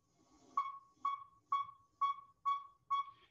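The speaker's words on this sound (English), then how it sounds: "Okay, so that is a tooting male call." A male northern saw-whet owl gives its tooting call: six evenly spaced, clear whistled toots about half a second apart, moderately near, against quiet background.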